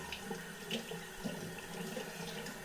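Water runs steadily and faintly from a tap in a village setting while hands are washed, a soft continuous splashing with small irregular spatters.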